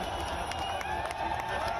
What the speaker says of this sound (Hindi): तालियां बजाते हुए, हूटिंग करते हुए, नारेबाजी करते हुए